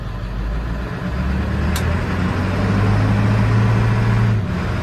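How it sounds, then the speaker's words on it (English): An old, smoky diesel dump truck, fully loaded, drives along with a loud, close, steady engine rumble that swells slightly as it pulls, with a brief high click midway. "I'm driving a full dump truck."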